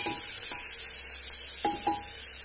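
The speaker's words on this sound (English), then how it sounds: "fried and stirred a bit, keep stirring it" A chopped medium onion fries in a pan for watermelon rind sabzi, with a steady sizzling hiss and a few soft scrapes as it is stirred.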